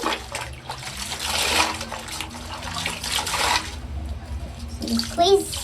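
Wig hair with bone-straight texture being dipped and rinsed in a basin of water, giving splashing and trickling sounds with soft background voices mixed in.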